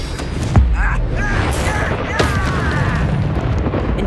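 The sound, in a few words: Expelliarmus spell cast, from video game Hogwarts Legacy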